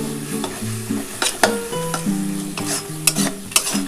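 Spices are stir-fried (kashano) in a pan for a dhaba-style chicken curry, with loud, close spatula scrapes and taps over a sizzle and a steady tonal hum behind them.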